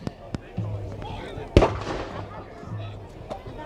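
A single loud artillery cannon boom goes off at a battle reenactment in Tewkesbury, a sharp blast with a rumbling tail, while people chat nearby before and after it.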